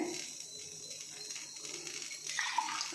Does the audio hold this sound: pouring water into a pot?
yes